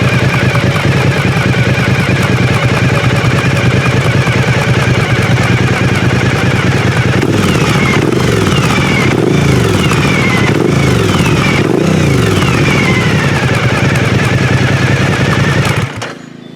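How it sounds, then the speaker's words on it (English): A Suzuki DL1000 V-Strom motorcycle with a Holeshot Performance exhaust idles loudly and close, then gets several sharp revs that pop and crackle midway. It settles back to a steady idle before cutting off. "Give you a few revs here."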